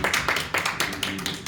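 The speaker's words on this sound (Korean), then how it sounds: "오늘 이 시간에 함께 하신 주님께 영광의 박수" A church youth worship congregation claps in a steady rhythm, with sharp, even bursts repeating several times a second over a reverberant room.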